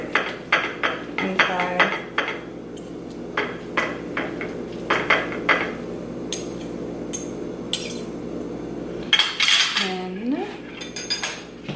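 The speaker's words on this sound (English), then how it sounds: "So I start by cutting them open, and then I kind of mash them up a little bit" Cutlery clinks and scrapes against a dish as cooked sweet potatoes are cut open and mashed, with irregular close taps and a brief spoken remark.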